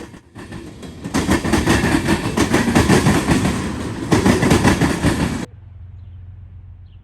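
CSX rack freight train M216 heading eastbound through Marion, Ohio, rolling past loud and close with a dense, steady rumble and rapid clickety-clack of wheels for several seconds before cutting to a low, quiet hum.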